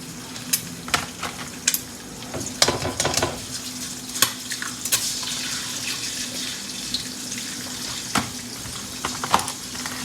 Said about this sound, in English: I got a hot wok, nice amount of oil. I'm about to go ahead and put 2 eggs in here.